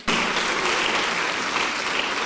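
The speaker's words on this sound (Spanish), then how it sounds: "Denle fuerte las palmas al Señor." A church congregation claps loudly in praise, a sudden start into a thick, steady wall of hand claps that carries on without a break.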